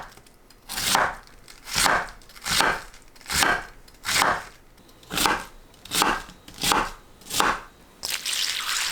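Knife slicing a cored green cabbage into thin 0.8 cm strips on a cutting board, about ten crisp crunchy cuts in a steady rhythm, close and clear with no talking.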